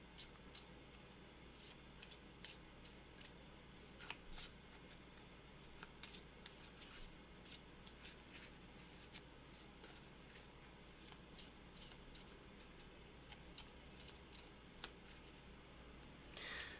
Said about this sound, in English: let me shuffle these again